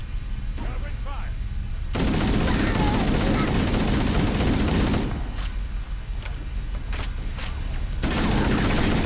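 Dense covering gunfire from the Halo CE video game, sustained bursts of automatic weapon fire and blasts filling the whole stretch, loud and close, with voices speaking under the shooting.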